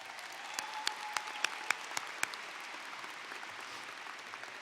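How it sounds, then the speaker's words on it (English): Applause from a graduation audience at a high school ceremony, a steady, fairly faint wash of clapping with a few sharper individual claps standing out early on, running throughout without speech. "I think that deserves another round of applause"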